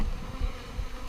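Honeybees are shaken into a hive box during a packdown from two boxes to one. They make a dense, steady, close buzzing swarm sound that fills the whole moment, with no talk over it.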